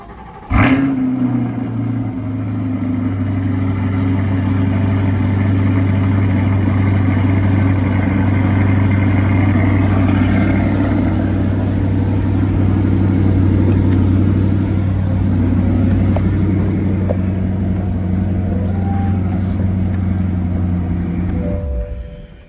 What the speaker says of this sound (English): I'm going to do a startup for you here too.